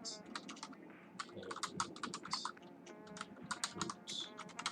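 Rapid typing on a computer keyboard during a programming session, with dense, irregular bursts of close key clicks and occasional louder strokes, continuous throughout with no speech.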